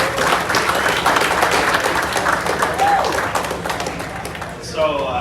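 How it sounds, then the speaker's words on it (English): Dense crowd applause fills a room at a racing guest-speaker event, a steady wash of many hands clapping at close range throughout, easing slightly near the end. "Give him a quick round of applause really quick."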